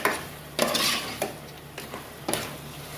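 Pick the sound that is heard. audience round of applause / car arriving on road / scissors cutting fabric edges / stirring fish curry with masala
stirring fish curry with masala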